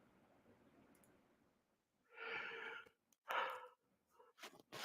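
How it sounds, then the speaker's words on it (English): A person yawns during a live online astronomy broadcast, a long breathy exhale followed by shorter sighing breaths, soft and close with no talking. "Who's yawning?"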